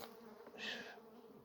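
Bees move about on a frame in a beehive wintering outdoors, a faint low hum with one brief, brighter buzz of a single bee passing close.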